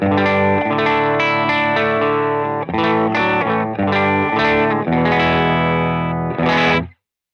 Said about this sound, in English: I'm running a Seuf Guitars OH22 into a Benson Amps Monarch reverb, and it sounds like this.